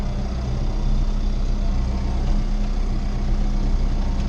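A Fendt tractor engine runs steadily at a low, heavy drone, close and continuous without pauses or speech.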